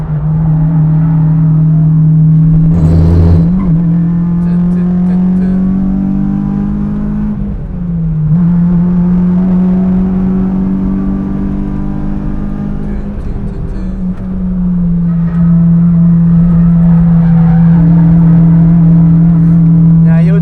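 A Honda Civic EP3 Type R with 215,000 miles is driven flat out, its engine droning loud and steady in the cabin, rising through revs with brief dips at gear changes.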